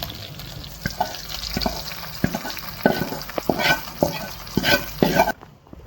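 Garlic tempering for bisibele bath sizzles in hot oil in a pan, with a steady frying hiss and repeated sharp scraping taps as it is stirred, close up and without talk, before cutting off abruptly.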